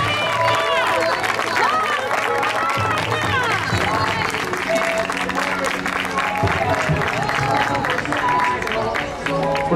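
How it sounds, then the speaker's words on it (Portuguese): A crowd at a youth athletics meeting in Porto applauds and cheers as a young girl runner finishes a 500 m race, dense and continuous clapping with voices and chatter mixed in throughout. "Nosso aplauso para a Madalena, que também vai aí para terminar a prova."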